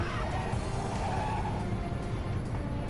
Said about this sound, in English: But the car goes too fast. It wants to drift anyway.